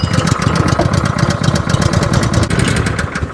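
A small gasoline engine running just after a pull start with the choke on, a close, loud, steady chugging putter with a rough rapid pulse and no voices.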